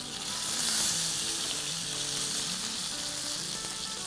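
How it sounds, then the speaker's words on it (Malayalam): Tilapia fish shallow frying in coconut oil in a non-stick pan, giving a steady, bright crackling sizzle up close that swells slightly early on, with a faint stir and no talking. "ഒരു ചെറിയ ഷാലോ ഫ്രൈ ആയാൽ മതി"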